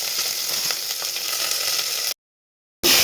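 Small onions sautéing in oil with mustard seeds and chillies, a crackling sizzle with popping ticks that cuts off into a short silence and then resumes loudly.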